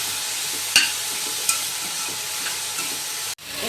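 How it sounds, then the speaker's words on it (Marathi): Vegetables sauté in butter in a pan, giving a steady close sizzle and hiss with a couple of faint utensil taps and no voices. "हे आता चांगले मग होईपर्यंत ना परतून घ्यायचे बटरमध्ये"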